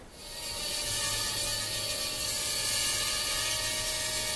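A Traxxas QR-1 quadcopter with its props guarded by pieces of antenna flies close by on a test flight, giving a steady high-pitched motor and propeller whine with a faint buzzy hum beneath it and no talk.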